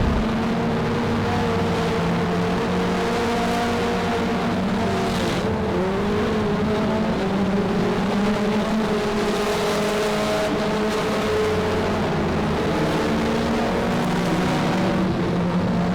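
Race cars lapping Monarch Motor Speedway during a heat race, a steady loud engine drone with overlapping motor tones that rise and fall as the cars circle the track.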